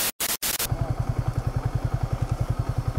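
A motorcycle rides along a foggy mountain road in Tripura, its engine pulsing in a steady, close rhythm after a few brief bursts of noise at the start.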